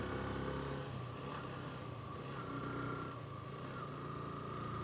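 A motorcycle rolling slowly at around 26 to 30 km/h on a rough road toward Bhakunde Besi, a low, steady engine drone with faint rumble from the wheels, quiet and unbroken, with no talk.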